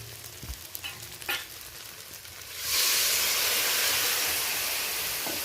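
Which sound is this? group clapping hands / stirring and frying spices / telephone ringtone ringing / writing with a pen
stirring and frying spices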